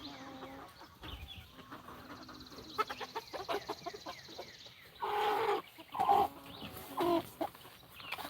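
Farm chickens cluck and squawk outdoors in repeated loud bursts, with scattered movement and bird calls between them.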